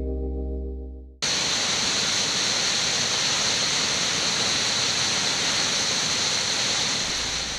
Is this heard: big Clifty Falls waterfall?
yes